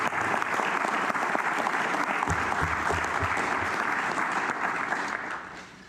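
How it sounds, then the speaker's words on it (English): A room full of people at a Public Accounts Committee presentation ceremony applauding steadily for several seconds, dense and sustained, tapering off slightly at the end. "give a round of applause to all those at the departmental level"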